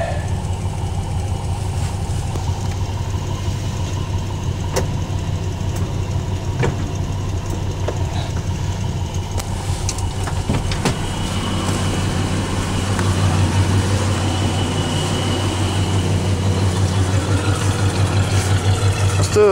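A Plymouth Valiant engine idles after a cold start in 35-degree weather, running slightly rich. It is a steady, close, continuous low rumble with a faint ticking knock, and it grows a bit louder partway through.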